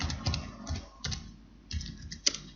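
Someone types a document title in Word on a computer keyboard: a few short bursts of key clicks separated by pauses, close and crisp, ending with a sharper tap. Nobody speaks.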